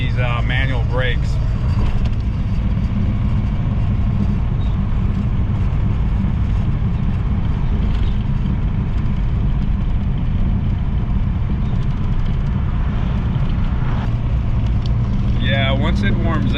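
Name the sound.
1961 Mercedes-Benz 220Sb W111 engine running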